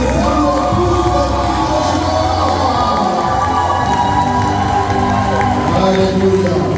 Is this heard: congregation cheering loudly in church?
yes